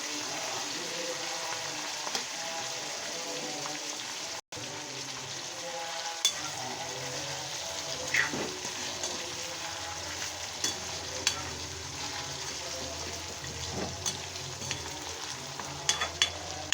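Chicken gravy with salt and chili powder frying in a pan, a continuous close sizzle under steady stirring, with scattered sharp clicks of the spoon against the pan.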